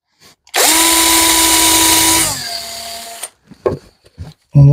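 A power drill bites into the corner of a wooden cheese board with a loud, steady whine for nearly two seconds, then slows and winds down, followed by a few soft knocks and handling sounds.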